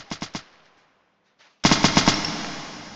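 Video game gunfire: a quick burst of three loud shots, a near-silent pause, then a longer rapid burst of automatic fire with a ringing tail.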